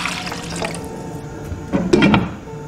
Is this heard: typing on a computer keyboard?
no